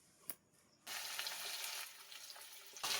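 Potatoes frying in a pan, a steady loud sizzle that starts suddenly after a brief quiet moment with a small clink, then hisses continuously and flares up again at the end.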